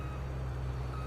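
Steady, evenly spaced reversing beeps from a vehicle in Farming Simulator 22 sound over a low engine hum, continuous and close.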